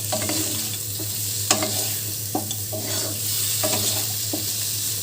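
Garlic and medium onion fry with chicken pieces in a pan for a vegetable soup, a steady sizzle broken by repeated scraping stirs of a spatula at an unhurried rhythm.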